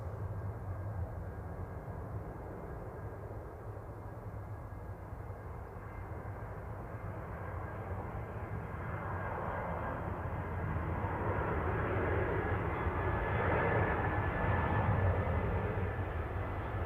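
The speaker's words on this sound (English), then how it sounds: "EasyJet 730 from Jersey there, GZUN A320 Classic" An EasyJet Airbus A320 Classic on landing approach at Manchester Airport makes a steady low jet roar that swells gradually as it draws nearer, heard alone without talking.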